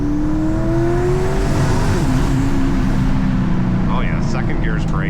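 A turbocharged Dodge Challenger SRT8 revs hard and accelerates up close, its engine drone loud and continuous with rising pitch, plus a whistle-like whine toward the end.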